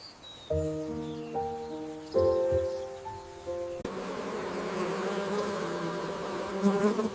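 A honeybee buzzing, a close, steady droning hum that follows a few seconds of tonal musical notes and continues alone to the end.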